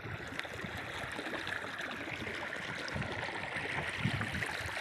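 Cold Bhakra canal water runs into a cotton field during an early-morning irrigation turn, a steady close rushing and gurgling flow that holds even throughout, with no talk.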